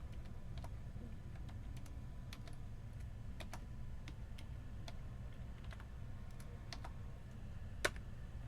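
Someone types a password on a computer keyboard while configuring a server, sparse light key clicks spread over a steady low hum, one slightly louder tap near the end.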